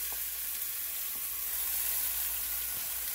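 A 2.5-pound batch of ground meat for tacos browns in a pan, giving a steady, even hiss of sizzling with a few faint clicks, fairly quiet and without voices.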